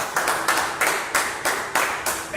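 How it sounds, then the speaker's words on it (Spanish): Congregation at a church revival service clapping in a steady rhythm, about eight loud, evenly spaced claps over a couple of seconds with no talk. "Denle un fuerte aplauso."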